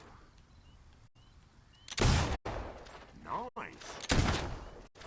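Gunshots in a shooting minigame from the video game Fable II, two loud sharp reports about two seconds apart amid quieter game sounds, with a brief spoken remark between them.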